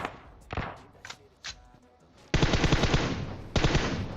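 Gunfire from the SKS and S12 in a mobile battle royale game: a few separate sharp shots early on, then two long, loud bursts of rapid automatic fire close up.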